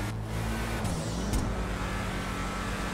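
A car engine in Grand Theft Auto V Online starts up and pulls away, a steady close motor drone that rises briefly as it drives off, with no talk over it.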